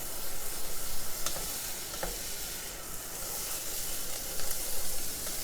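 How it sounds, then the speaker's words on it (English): Rice stirred and toasted in a pan sizzles with a steady hiss, while a spoon scrapes through the grains in occasional soft taps and scrapes close by. "So now we'll go in with our rice. Get that nice and stirred."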